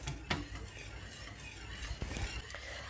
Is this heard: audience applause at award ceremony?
no